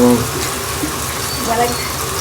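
Buttermilk pours steadily into a pan of tempered bajra rotla, a continuous close liquid splash for about two seconds, with faint kitchen background.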